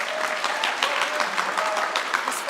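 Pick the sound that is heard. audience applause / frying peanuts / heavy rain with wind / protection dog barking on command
audience applause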